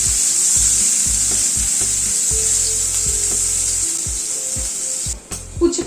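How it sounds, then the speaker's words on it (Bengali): Bitter gourd pieces fry in oil with salt and turmeric, a high steady hiss over rhythmic low scraping strokes of a spatula against the pan, near and fairly loud, ending with a few clatters. "নুন হলুদ দিয়ে উচ্ছেটাকে ভেজে নিচ্ছি"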